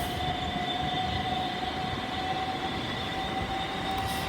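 A Class 377 electric train pulls out of Gatwick Airport station, a loud, steady rumble of wheels and traction with a sustained high tonal whine running throughout, close by and uninterrupted.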